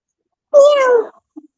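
A single drawn-out meow voiced by a person imitating a cat, close and clear, followed by a brief faint sound and then silence.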